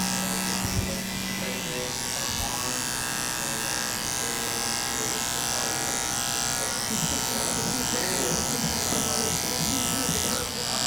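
An electric clipper buzzes steadily while trimming a man's beard up close, running continuously for the whole stretch with a brief low thump near the start.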